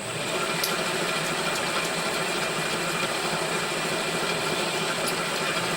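A milling machine spindle running in a home workshop, used with a ball-ended centre finder while machining the steam chest of a Stuart Turner No. 8 mill engine, giving a steady, continuous motor hum and whine with faint periodic ticks throughout.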